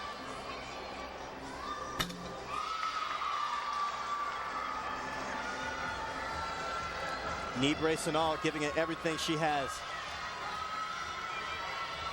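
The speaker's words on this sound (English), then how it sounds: "Teammates cheering her on for her dismount." Teammates cheer and yell for a gymnast during a women's college gymnastics meet, their calls rising in a loud, energetic burst late in the clip beneath steady arena noise and an announcer's commentary.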